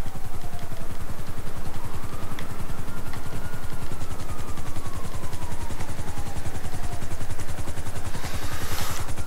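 A helicopter in GTA 5 Online thrums steadily with a fast, loud rotor chop throughout, along with a faint sweeping engine whine and a brief burst near the end. No one speaks.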